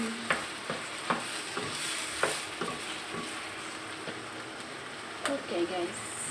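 Minced chicken bolognese sauce stirred in a pan, with repeated spatula scrapes and taps at an uneven rhythm over a low sizzle, with some speech mixed in.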